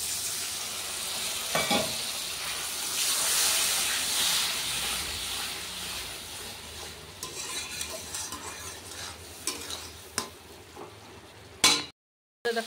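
Spice paste fries in a pan for a fish curry with bottle gourd, a hissing sizzle broken by scraping stirs and clatters, fading unevenly before a sudden stop near the end.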